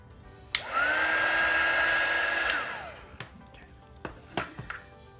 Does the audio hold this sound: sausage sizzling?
no